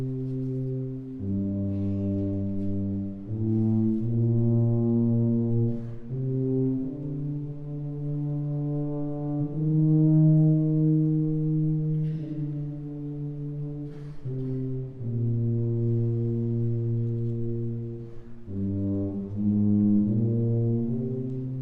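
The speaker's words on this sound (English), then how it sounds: "And the extremely slowed-down version in the tuba." A tuba plays a fugue theme slowed down to an extreme degree, with long sustained low notes that shift pitch every second or two, steady and loud with no talk over it.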